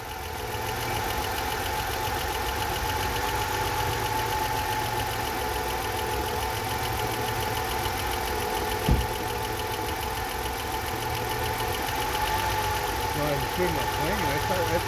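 A 2001 Mercedes-Benz C320 engine runs steadily at a raised idle near 1500 RPM, with a continuous even hum and a faint ticking knock. A single brief thump comes partway through.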